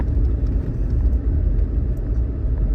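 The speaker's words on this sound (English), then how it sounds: "And here is video of driving up the trail." A vehicle's engine rumbles steadily while it drives up a steep mountain trail, a loud continuous low drone with road noise and no speech.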